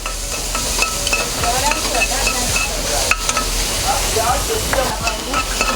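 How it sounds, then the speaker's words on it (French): Finely chopped onions sizzling as they are sautéed in heated oil, a steady crackling hiss punctuated by the scrape and stir of a utensil in the pan, close and continuous. "nous incorporons nos oignons hachés finement. On les fait revenir."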